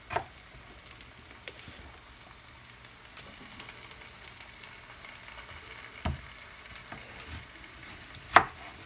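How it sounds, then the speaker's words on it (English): Sausage and potatoes frying slowly in a pan make a soft, steady sizzle. A few sharp clicks and scrapes sound now and then, the loudest near the end. "I want it to cook slowly because the sausage cooks really easily."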